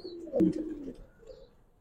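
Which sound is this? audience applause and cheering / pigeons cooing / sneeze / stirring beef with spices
pigeons cooing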